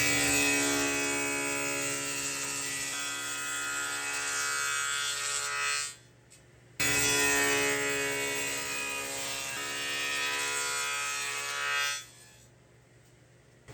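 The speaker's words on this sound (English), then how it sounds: "I'm now going to put a 1/2 inch rabbet for my backer on this back side." Router-type power tool cutting a half-inch rabbet along the back edge of a cabinet base, a loud steady whine in two long continuous passes, each ending abruptly.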